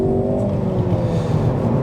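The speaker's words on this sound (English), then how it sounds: "We'll drop it into seconds and then we'll give it the beans down this slip road." Ford Focus ST3 hatchback pulling hard in second gear along a slip road, a loud, steady, rising engine drone with harmonic whine, continuous and close for the whole stretch.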